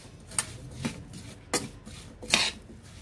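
Apple pie filling being stirred in a pan with a spoon, giving four separate scraping strokes about half a second apart, close and fairly quiet with no talk.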